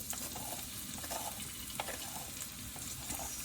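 Chili and garlic dropped into hot oil in a wok, giving a steady, dense sizzle that holds at a moderate level throughout with no talking.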